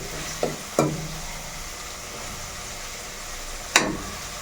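Garlic frying in a pan while being stirred, a continuous low sizzle broken by a few sharp scraping clacks of the spoon against the pan, close and alone without talk.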